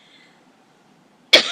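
A single sharp cough bursts out near the end, loud and close, after a stretch of near silence with a faint voice at the start, during a plenary session on the Amazon Fund.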